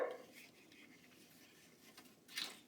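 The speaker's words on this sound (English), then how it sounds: "my dog's saying hi to you guys" A dog outside, wanting to come in, gives a faint whimper at the start and a brief bark near the end, both quiet and distant against a soft room background.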